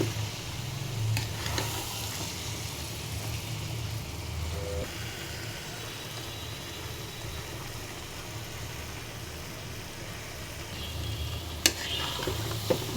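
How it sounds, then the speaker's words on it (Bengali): Sweet-sour-spicy mango pickle being stirred and mixed in a pan, a steady low scraping and sizzling texture with faint clinks, continuous and fairly quiet throughout. "এখন আমি ভালো করে নেড়ে নিচ্ছি, নেড়ে মিশিয়ে নিচ্ছি।"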